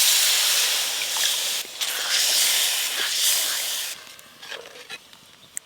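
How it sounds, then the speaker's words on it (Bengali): Water poured into a hot pan of prawn curry gravy sets off a loud, close hissing sizzle that holds for about four seconds. It then drops to a quieter simmer with a few faint clinks and a sharp tap at the end. "এবার জল দেব।"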